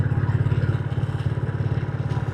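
A motorcycle rides along Gap Road in Munnar, its engine thumping in a steady, close, even pulse with no voices over it.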